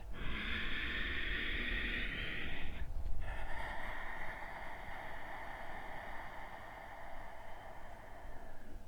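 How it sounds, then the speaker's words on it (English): Slow, audible ujjayi breaths drawn through a constricted throat during yoga give a long hissing, ocean-like rasp: one extended inhale, a pause, then a long exhale, close and steady. "it's a restriction of the throat that slows down the breathing"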